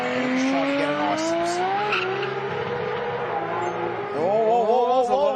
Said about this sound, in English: There's a lot of rev limiter there.